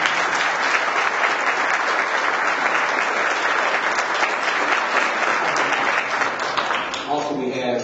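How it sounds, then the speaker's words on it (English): Sustained applause from a crowd at an NAACP annual gala as the mayor is acknowledged, steady dense clapping filling the room for several seconds before a voice begins to speak as it fades. "when you all give the mayor a round of applause"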